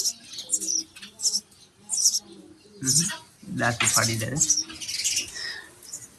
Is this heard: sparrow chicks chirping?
yes